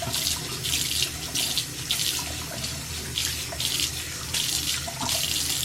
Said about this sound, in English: Rinse it off.